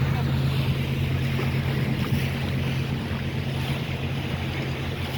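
A passenger ship's steady low engine drone on the Andaman Sea, with constant wind and rushing water over it, unbroken throughout.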